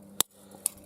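A single sharp snip of scissors cutting, close and crisp, followed by a fainter second click a moment later.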